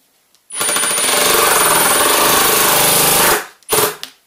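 A double countersink screw is driven slowly into very grainy wood with a power driver: a loud, close, steady whirring grind for about three seconds, then two brief bursts.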